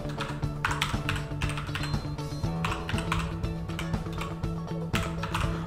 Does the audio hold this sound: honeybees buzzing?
no